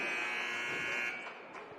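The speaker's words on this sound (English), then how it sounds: "Thought for a second there we were going to have a buzzer that wouldn't go off. It sounded like it." Buzzer at a high school girls' and boys' basketball game in a gym, one sustained harsh electronic drone heard from a distance that cuts off partway through, leaving quieter room noise.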